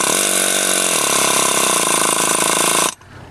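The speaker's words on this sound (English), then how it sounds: "turn your air chisel down to where it's much less" A pneumatic air chisel runs with a steady, loud buzzing rattle, its tone shifting slightly as it is turned down to a light vibration, then cuts off abruptly near the end.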